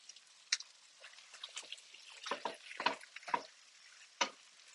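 A utensil stirring butter through food in a pan, quiet scattered scrapes and soft squishy taps with a faint sizzle, close and alone.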